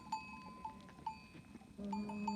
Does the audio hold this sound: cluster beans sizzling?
no